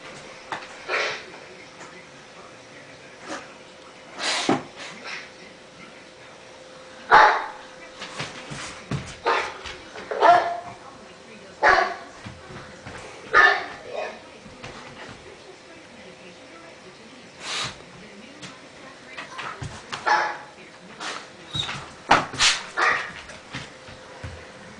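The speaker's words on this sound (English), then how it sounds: "playing video of Blue barking." A dog barks and yips in repeated bursts over about 25 seconds, with some whimpering, played back from a recording at moderate level, with irregular gaps between barks.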